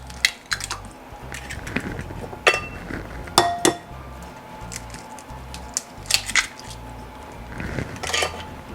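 Two eggs go into chocolate loaf batter: sharp clinks and taps against a bowl, then soft wet squishes and splats, repeated in short bursts with quiet pauses between.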